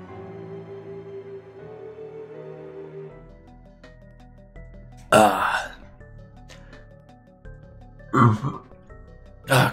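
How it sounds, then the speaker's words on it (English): A short, throaty burp from a person drinking honey vanilla chamomile tea, coming in bursts among quiet background tones from a game. "Excuse me for the burp."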